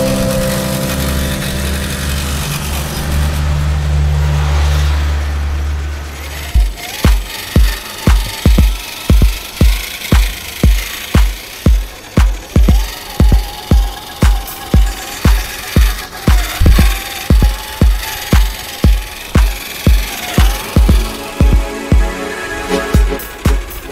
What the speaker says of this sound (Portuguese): emoção grande pilotar uns bichinhos desse tamanho aí, de rádio controle